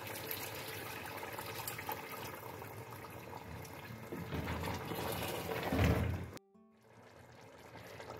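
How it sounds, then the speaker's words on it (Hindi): A cup of water poured into a pan of fried chicken for chicken chukka, a hissing, bubbling rush that swells over a few seconds and cuts off abruptly. "अब इसके अंदर मैं 1 cup पानी डाल दूंगी"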